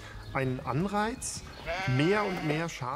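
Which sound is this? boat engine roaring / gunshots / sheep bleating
sheep bleating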